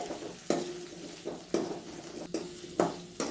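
Curry leaf chutney ingredients with chopped coconut sauté in a pan: a soft, steady sizzle broken every second or so by a sharp scrape of a spoon stirring against the metal, close and fairly quiet, no talk.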